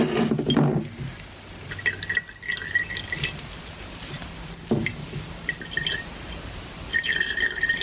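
Liquid strained through a cloth filter while ink is made, dripping and trickling in short close bursts with glassy clinks between quieter pauses, no talking.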